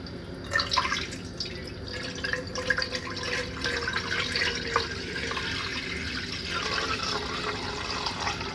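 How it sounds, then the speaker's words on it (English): Water poured from a glass Brita water filter jug into a pot, a continuous trickling and splashing stream with small drip-like accents, moderately close and without talk. "I've got my new Brita water filter"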